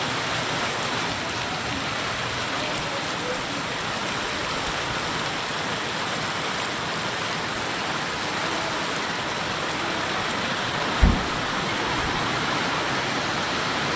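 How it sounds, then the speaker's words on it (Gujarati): Heavy rain pours steadily at a temple, a dense, even hiss of falling water that stays loud and unbroken throughout, with one brief thump near the end. "બહુ વરસાદ ચાલુ છે."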